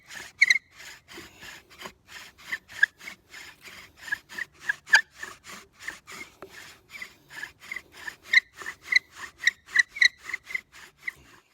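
Rhythmic rasping and grinding of a bow drill spindle against tulip poplar wood, quick back-and-forth strokes repeating steadily, close up, with no talking.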